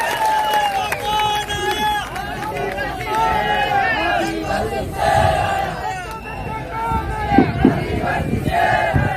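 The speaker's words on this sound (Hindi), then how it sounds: "उनको जोरदार तालियों के साथ स्वागत करो दोस्तों।" An outdoor crowd at a Bharat Adivasi Party founding day gathering cheers and shouts in welcome, with loud overlapping voices and whoops rising and falling throughout, and scattered clapping mixed in.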